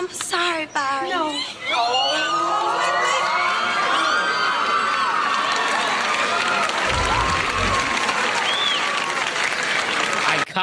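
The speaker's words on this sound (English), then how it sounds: "Byron's family is clapping for her marrying someone else." A family in a 90s sitcom claps at a wedding scene, with a loud burst of applause, cheering and whoops from a studio crowd that swells after opening dialogue and holds steadily to the end.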